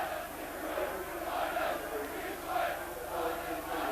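A big crowd at Headingley rugby league ground murmurs and swells before a Leeds versus Castleford cup match, a continuous distant roar with rising and falling surges of voices and no clear speech.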